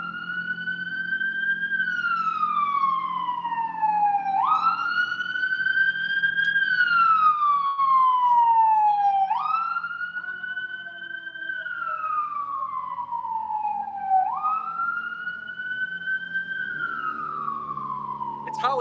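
Wailing sirens rise and fall in long sweeps on a Hollywood street, loud and continuous, with a low rumble of street traffic underneath.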